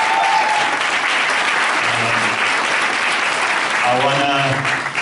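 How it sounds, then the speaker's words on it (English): An audience at a Saturday morning business leadership talk claps in a full, continuous round, loud and even throughout, with a faint sung or musical tone drifting in near the end. "I'll give them a round of applause."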